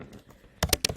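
A short burst of typing on a computer keyboard, three or four sharp, close keystrokes in quick succession after a quiet lull.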